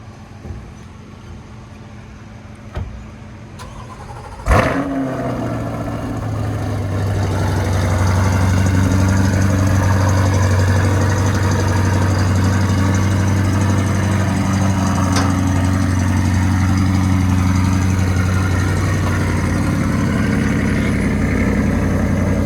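A white 2022 Chevrolet Corvette C8 1LT starts after a few clunks and a sharp bang, then its engine settles into a steady, loud low idle as it is driven off a transport truck.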